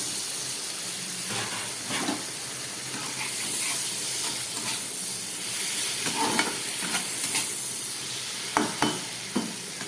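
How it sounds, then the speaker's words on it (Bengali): Potatoes and eggplant frying in a pan with turmeric: a steady sizzle and hiss throughout, with occasional scraping stirs that grow sharper near the end, close and with no talking. "এর সঙ্গে আমি আলুগুলোকেও ভেজে নিচ্ছি।"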